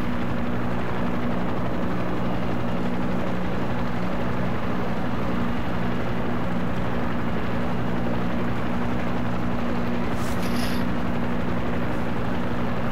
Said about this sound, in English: I'm also going to show you a way to do kind of like a dog fight with your chopper.